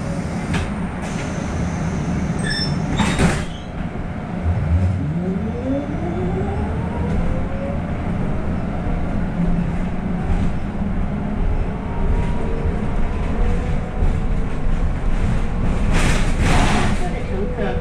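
A city bus in Zhuhai's Gongbei area pulls away and drives on. A steady engine and road rumble runs throughout, with a rising engine tone as it accelerates and a couple of brief louder knocks. A recorded announcement voice plays over it.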